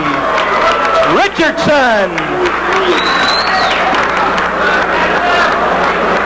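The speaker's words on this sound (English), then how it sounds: "How about a round of applause for Fast Eddie Richardson?" A boxing-match crowd applauds and cheers loudly for a fighter's introduction in the ring, with steady clapping, rising whistles and shouts throughout.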